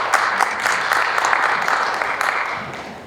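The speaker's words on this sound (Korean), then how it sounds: "다시 한번 박수 부탁드리겠습니다." Conference audience at a colorectal surgery society meeting claps steadily for about three seconds, a dense, even wash of applause close to the microphone with no pauses.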